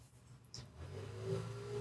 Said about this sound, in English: And some asshole is revving his bike outside